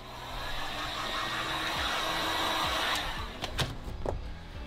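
A heat gun blows a steady, loud whooshing roar while warming sound-deadening panel inside a camper van, then cuts off near the end, leaving a few knocks and taps.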